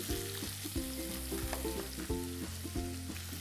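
Slit green chillies hitting hot oil, with a loud, close, fizzing sizzle that carries on steadily over background music.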